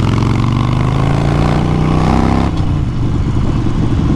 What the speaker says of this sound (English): This 1200cc Evo engine just sounds so killer.